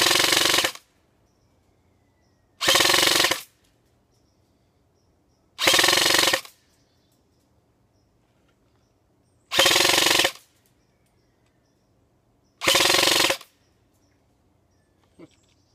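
Five sharp full-auto bursts from an upgraded G&G CombatMachine airsoft gun firing BBs, each lasting under a second and spaced a few seconds apart, loud and close with silence between them.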